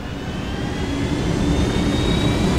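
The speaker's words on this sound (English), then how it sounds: "Jump right into this helicopter over here." A helicopter takes off in the video game Ghost Recon Wildlands with a loud, continuous engine roar and a thin whine that slowly rises in pitch, heard alone without talk.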